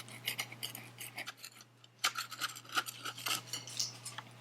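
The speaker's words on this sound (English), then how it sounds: "I'm going to run a butter knife around the edges to loosen it" A butter knife is run around the edges of a baked sponge cake in its pan, giving a run of light, close metallic scrapes and taps over a steady low hum.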